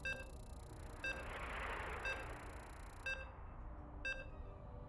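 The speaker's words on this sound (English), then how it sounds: "You can hear the beeps" StarCraft 2 game-loading beeps sound as short, evenly spaced electronic tones about once per second, five in a row, over a faint background hiss.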